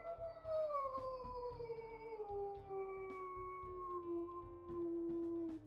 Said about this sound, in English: We'll also listen to her howls here.